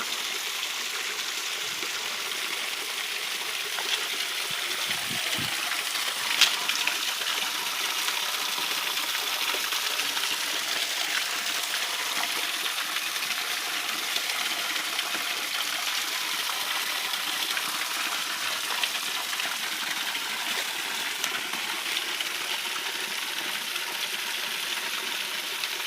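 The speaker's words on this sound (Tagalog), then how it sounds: "maliit lang na falls pero medyo okay naman kasalan" A small waterfall pours steadily outdoors, a continuous broad rushing of water with even loudness throughout and no voices.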